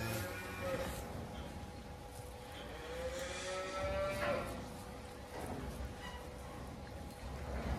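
A cow moos on a farm where Simmental and crossbred cattle are kept, one drawn-out low call rising near the middle, moderately close over a quiet, faint outdoor background.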